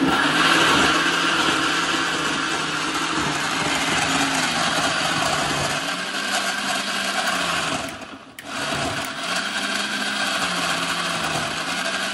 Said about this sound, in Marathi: आता यात मी थोडं दूध घालून मिक्सरला फिरवून घेते